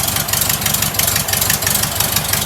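A rebuilt air-cooled Volkswagen engine, salvaged from a sidewalk, running steadily on its first start; a loud, even, throbbing idle with a rhythmic low chug and mechanical clatter, close by, with no talk.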